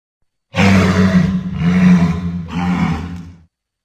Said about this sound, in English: Jesus, is that what an actual walrus sounds like?